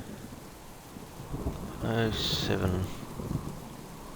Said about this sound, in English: Yeah, that's definitely a storm.